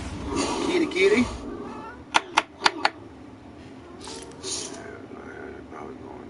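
A pet cat meows a few times close by, followed by a quick burst of four sharp clicking taps and a couple of softer noises, with quiet room sound in between.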